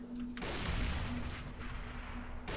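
Overwatch match: a grenade blast and gunfire, a dense loud burst of booming impacts filling the moment, alone without talk.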